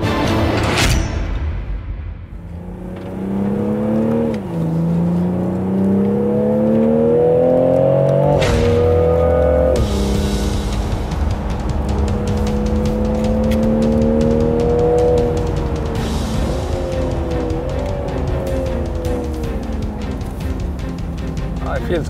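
Toyota GR Supra engine accelerating through the gears, loud rising engine tones with shifts between them heard from inside the car, steady and continuous across the run.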